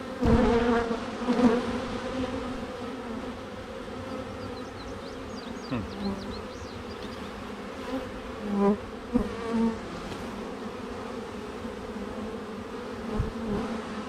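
Agitated honey bees swarm around a hive that may be queenless, a dense, continuous buzzing close to the microphone. Individual bees drone loudly past now and then, with no talk over the sound.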